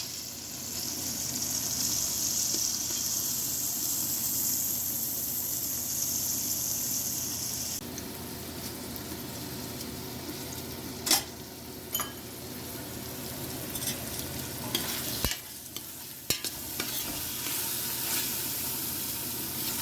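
Chopped half tomato sizzles and fries in a pan with spices for spicy lamb biryani, a steady close hiss that shifts as the pieces are stirred, with occasional clinks of a utensil.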